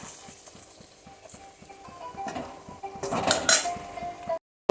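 Taro pieces tumbling into a cooking pan with whipped curd, with clattery metallic clinks and scraping knocks that build up near the end before cutting off abruptly.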